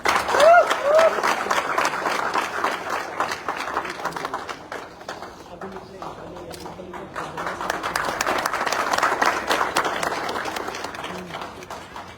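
An audience at an indoor company award event applauds loudly and steadily for about twelve seconds, dense clapping swelling again near the end, with a few brief voices and shouts mixed in.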